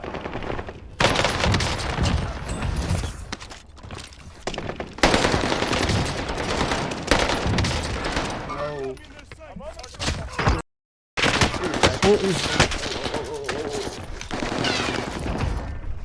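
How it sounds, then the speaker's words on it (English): Rapid automatic gunfire rattles through a video game in long sustained bursts, loud and near, broken by a brief silent gap, with someone talking over it. "I'm gonna keep shooting him."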